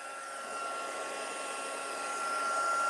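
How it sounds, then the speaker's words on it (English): Heat tool warming embossing powder on a card, a steady close whooshing blower hum that grows slightly louder, with no talk. "I'm going to heat emboss. I'm going to warm that up just a little bit."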